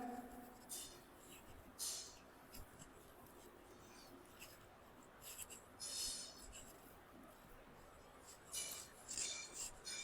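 A teacher writes on a board during a maths lesson, making soft, scratchy bursts of strokes that come and go, very faint against a quiet room.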